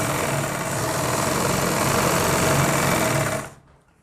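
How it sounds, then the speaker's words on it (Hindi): A sewing machine runs a steady, loud continuous stitch along a Lycra pajama seam at a half-inch margin, humming evenly for about three and a half seconds before stopping abruptly. "पक्की सिलाई लगाने के बाद इसको देखिए एक बराबर ऐसे पकड़ते हुए सिलाई लगाएंगे"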